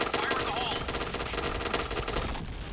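A T77 gun in the Point Blank game fires in rapid, unbroken automatic bursts over about two seconds. A player's voice is heard along with it, and the firing drops away at the end.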